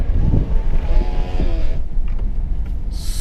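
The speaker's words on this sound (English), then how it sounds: "super windy today." Strong wind buffets the microphone on a drive through the Eastern Cape highlands, with a heavy, continuous low rumble and gusting roar that carry on throughout and no one speaking.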